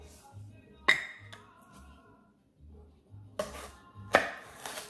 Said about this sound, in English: Our next step is to cut the celery into pieces